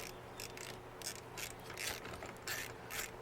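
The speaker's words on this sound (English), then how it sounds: "Probably going to have to use a ratchet to get that one started" A hand ratchet clicks in repeated short bursts while tightening screws on a rear seat release in a 2009-or-newer Ford F-150, close and fairly quiet with no talk.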